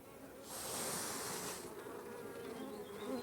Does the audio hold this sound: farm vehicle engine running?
no